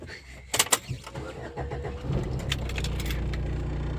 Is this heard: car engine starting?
yes